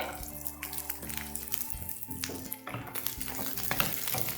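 Chopped garlic sautés in a hot pan with green chillies, crackling and sizzling continuously up close with intermittent stirring clatter.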